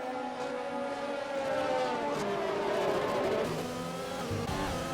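Several McLaren race cars in a sim racing game, engines whining in sustained high-revving tones that rise and fall as they battle wheel to wheel, steady and loud with no one speaking.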